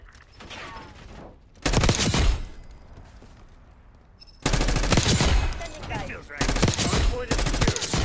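Rapid automatic gunfire in a Black Ops shooter game, loud close bursts of fast shots in two long volleys separated by a quieter stretch of game ambience.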